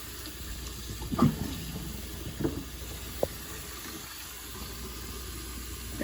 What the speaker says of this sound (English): I run water into the cavity of the bird